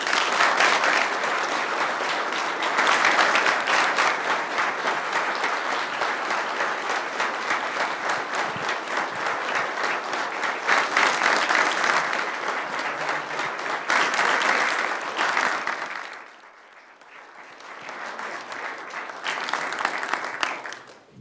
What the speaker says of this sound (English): join me in an applause for our gratitude